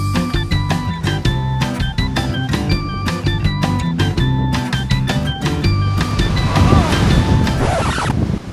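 Ocean surf at a surf spot in the southwest corner of Western Australia, a steady loud wash of waves with wind buffeting the microphone and a musical, tonal layer running through it.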